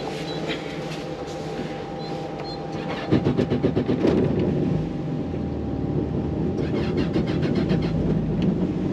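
A Yamaha 252XE boat engine being started, with a rapid cranking chatter that catches into a steady running idle and a low rumble, nearby and fairly loud.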